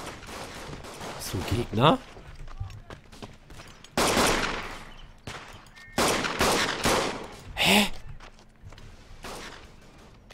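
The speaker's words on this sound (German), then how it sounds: "Auf wen oder was wurde da gerade geschossen?" Battlefield gunfire in the World War I shooter Verdun: repeated loud rifle cracks and bursts, some near and some distant, over a German-speaking player's commentary.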